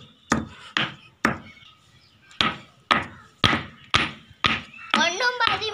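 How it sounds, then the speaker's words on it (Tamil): Garlic and fennel seeds pounded in a mortar for masala vadai, heard as sharp, close thuds in an uneven rhythm, followed by a person talking. "இப்போ வந்து பூண்டு போட்டுக்கலாம். இப்போ சோம்பு போட்டுக்கலாம். இப்போ இடிச்சு எடுத்துக்கலாம்."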